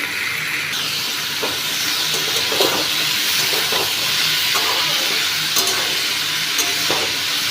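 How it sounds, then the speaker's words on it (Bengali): Potatoes with tomato and salt frying in a pan while being stirred: a loud, steady hissing sizzle fills the clip, with intermittent scraping strokes of a spoon and no speech. "এবারে নুনটা দিয়ে আর আরেকবার নাড়িয়ে নিচ্ছি"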